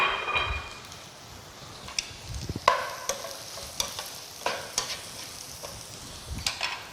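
Onions, mushrooms and peppers fry in a pan with a steady sizzle, broken by repeated scraping stirs and clacks of a utensil, close and fairly loud with no talking.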